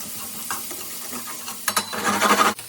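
Half a sweet yellow onion sizzles in a pan for beef stroganoff, with soft stirring scrapes early on and the frying growing louder and busier toward the end before cutting off; close and alone, no voices.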